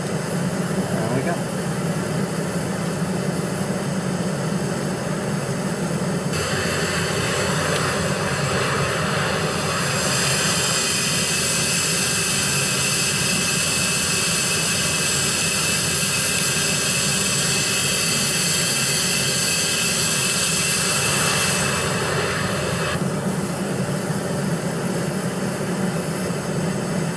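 Embraer E135 regional jet engines at climb power in a flight simulator game, a steady loud broadband roar with a brighter high-pitched whine swelling midway, while voices talk over it throughout.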